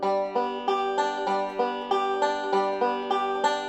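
A banjo picks a steady, rolling thumb-index-thumb-middle roll pattern for Shady Grove, bright plucked notes in an even repeating rhythm, played alone and close.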